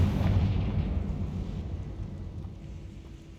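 Confringo fire spell explosion in Hogwarts Legacy, a loud deep boom that rolls and slowly fades over a few seconds, with no voices.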